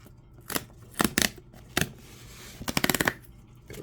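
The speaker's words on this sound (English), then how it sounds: "it's also like that perforated tab you just kind of rip into" A perforated tab on Magic: The Gathering Spider-Man booster packaging being ripped open, a series of sharp tearing bursts, a few single rips and then a quick rapid run of them, close and fairly crisp with no talking.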